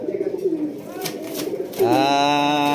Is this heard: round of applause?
no